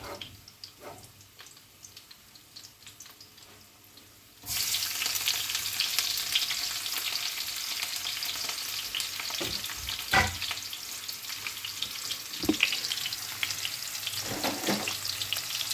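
Onion sizzles in a pan alongside sausages, starting quiet and jumping to a loud, steady frying hiss partway through, with occasional scraping taps from stirring.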